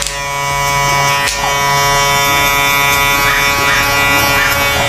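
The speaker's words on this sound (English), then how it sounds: "You got your clipper, use your corners, use your guard, and fade it to perfection." Electric hair clipper running steadily close by while fading a man's haircut with a guard, a continuous loud buzzing hum that holds for the whole stretch.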